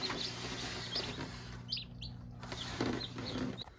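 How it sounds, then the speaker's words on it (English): Several faint, high-pitched chirps of baby chicks scattered over a steady low hum, peeping intermittently. "Y'all chirp. Keep chirping and call your brothers and sisters to come out of their shells."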